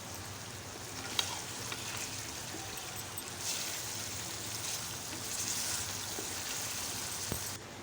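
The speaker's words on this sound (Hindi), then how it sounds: "तो अभी ये सारे मसाले डाल देते हैं, और इनको अच्छी तरह से मसालों को भी फ्राई करेंगे।" Spices including turmeric and red chilli powder fry in a pan for Afghani potato karahi, a soft steady sizzle with faint scraping and a few small clicks, quiet and close with no talking.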